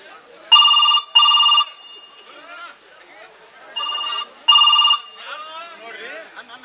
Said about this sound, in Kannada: ಆ ಸಿಂಗಾರಿಗಾರ ಫೋನ್ ಮಾಡಿ ಕೇಳಿದ್ರಾತು